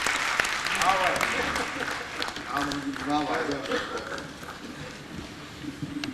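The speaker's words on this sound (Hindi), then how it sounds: "हम लोग तालियां बजाएं भाई मंजीत के लिए" An audience at a Hindi comedy gathering claps for a speaker, a loud burst of applause that thins out into scattered claps while someone talks over it.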